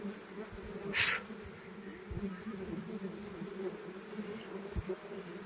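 A steady low buzz of bees hovering near dripping palmyra palm sap, continuous and fairly faint, with a few soft knocks and one short hiss.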